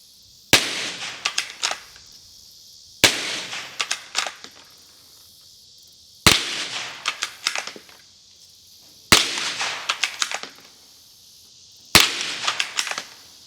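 Five sharp cracks from a .22 rifle with open sights ring out outdoors, spaced about three seconds apart, each loud, snappy report trailing into a short rattling echo.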